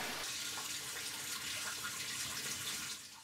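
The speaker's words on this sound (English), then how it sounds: "The water is just draining out of one of the grow beds, and then it gets pumped back into this fish tank that we have here." Water drains steadily out of a grow bed in a backyard aquaponics system, a continuous close trickling rush, like a running tap, that stays even throughout before easing slightly at the end.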